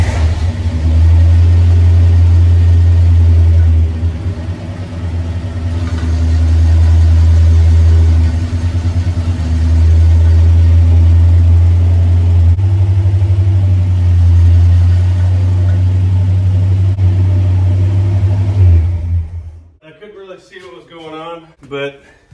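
A 1965 Cadillac Coupe DeVille V8 idling after sitting for 15 years, a loud deep steady rumble with brief revs and dips that runs for about twenty seconds, then cuts off as a voice begins speaking.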